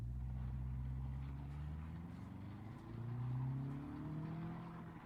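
Hirochi Sunburst 1.8 Base car in BeamNG.drive pulling away under load, a steady low engine drone with rising pitch as it accelerates, held close and continuous.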